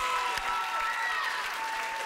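Audience applause for the dance crew Plague at a televised talent show semi-final, a dense, steady wash of clapping from a large crowd that holds level throughout, with faint background tones underneath.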